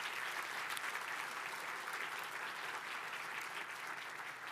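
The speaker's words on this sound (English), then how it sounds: "So give yourselves a round of applause for that." An audience at the 2023 Solar Decathlon winners announcement claps steadily, a dense wash of applause that holds at an even level from start to finish with no voices on top.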